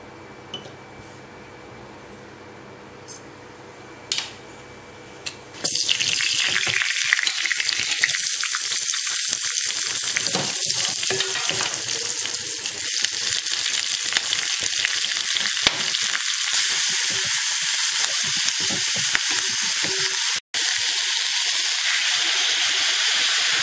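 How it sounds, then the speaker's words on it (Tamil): Tamil kuzhambu curry with chilli powder boiling hard on a kitchen stove, a steady close, loud bubbling sizzle that sets in after a few quiet seconds and carries on with a brief break near the end. "இப்போ குழம்பு நல்லா கொதிச்சிருச்சு."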